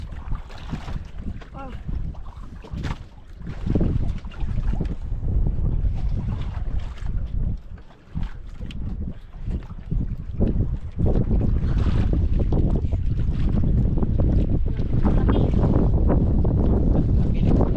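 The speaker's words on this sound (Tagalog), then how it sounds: "Hangin." Strong wind buffets a small fishing boat out at sea, a continuous loud roaring rush with gusts that swell louder in the second half, with faint voices now and then.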